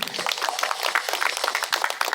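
Brief, steady clapping from a gathering at a church memorial service for the 75th anniversary of the Yeosu-Suncheon uprising, applauding a small group of painters. The clapping is dense and even throughout.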